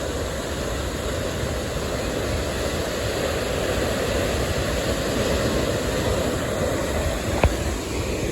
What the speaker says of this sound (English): Look at the size of this waterfall.